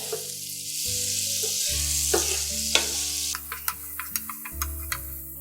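Garlic and shallots sizzle steadily in butter in a hot pan with a low hum underneath, and a utensil taps and scrapes the pan several times toward the end.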